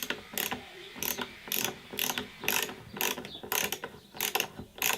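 A ratcheting screwdriver drives screws home in rapid bursts of close, loud clicking, about ten evenly spaced ratchet runs with short pauses between.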